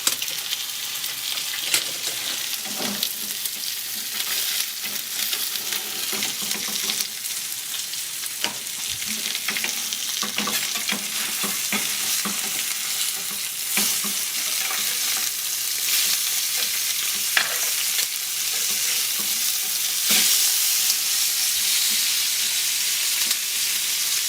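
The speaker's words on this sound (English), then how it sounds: "we just added the tomatoes to the garlic and the shallots." Tomatoes fry in a pan with garlic and shallots, giving a steady close sizzle broken by scraping stirs and crackles. No one speaks.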